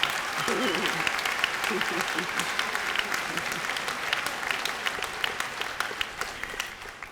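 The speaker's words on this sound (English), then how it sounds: "give them an applause" A crowd at the 2017 UCLA International Institute graduation commencement applauds the graduates, a dense, sustained burst of many hands clapping with voices mixed in, tapering slightly toward the end.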